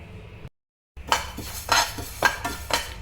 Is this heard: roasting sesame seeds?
yes